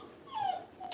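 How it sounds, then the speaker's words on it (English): A dog lets out a single short, thin, high whimper, fairly faint against quiet room noise. "It's a dog."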